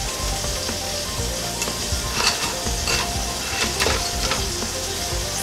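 Swiss steak browns in a hot pan with a steady, close sizzle, broken now and then by scraping and clinking as the meat is moved around.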